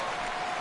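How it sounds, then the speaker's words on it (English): Crowd in a PS4 baseball video game letting out a steady ooh and applause, a dense wash of noise that stays fairly faint and constant throughout. "This crowd oohs and ahs every time this guy hits a fly ball."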